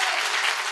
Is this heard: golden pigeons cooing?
no